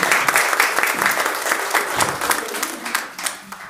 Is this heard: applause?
yes